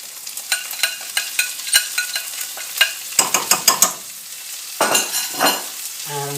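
Ginger and chilies fry in a pan of curry base while a utensil stirs them, giving crisp scraping clicks and bursts of sizzling, close up and with no talking.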